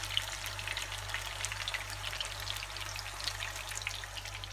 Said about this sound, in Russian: И сейчас я их буду обжаривать до золотистого цвета.